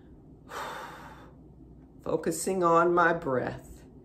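Deep breathing during breath work: one long, soft breath early, followed by a person talking.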